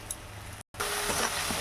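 Masala frying in oil for a desi magur catfish curry, turmeric and salt already added, gives a steady close hiss of sizzling that cuts out briefly before resuming just as loud.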